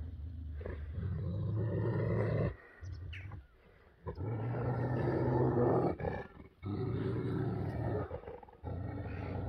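Large shepherd dogs fighting, with harsh, loud growls and snarls in sustained bursts broken by short pauses.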